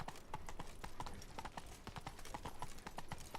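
Horse hooves clip-clop at a steady galloping rhythm while riding in the video game Witcher 3: Blood & Wine, loud and continuous with no talk.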